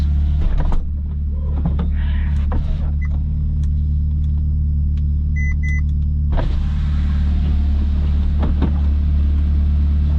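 The convertible roof motor of a 2012 Ferrari California whirs as it cycles, a steady electric hum over the car's low idle rumble, with a few short beeps and clicks midway before the motor resumes.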